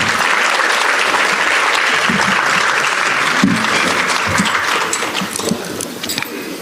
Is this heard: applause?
yes